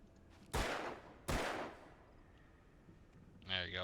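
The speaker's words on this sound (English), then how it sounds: "There you go, I shot the cans." Two loud, sharp gunshots in the game Alan Wake, fired at cans, spaced under a second apart with echoing decay, followed by a brief voice.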